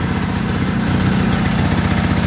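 A Massey Harris Pony tractor with an 18hp Briggs opposed-twin engine runs steadily nearby, a loud even idle with a low, pulsing chug throughout.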